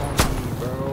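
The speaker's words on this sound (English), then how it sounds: "someone's shooting me from upstairs" One sharp gunshot cracks out loud and near in a shooter video game, a brief bang early on that fades into steady background game noise.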